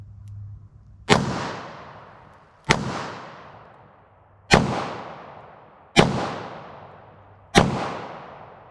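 Five sharp handgun shots from a Taurus revolver fired from the hip at a target, spaced about 1.5 seconds apart, each a loud close crack with a long echoing decay and no talk.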